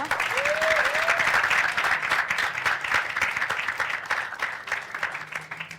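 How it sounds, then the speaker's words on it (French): Sustained applause from an audience at a French cinema screening and debate, honoring the film actors, with dense clapping holding steady and loud before tapering slightly toward the end. "Applaudissez une deuxième fois pour nos acteurs de cinéma."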